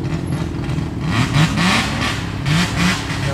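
A Mazda RX-8 at a muscle car gathering in a Sydney park, its engine revving and accelerating loudly and close by, with rising and falling engine pitch over a steady rumble.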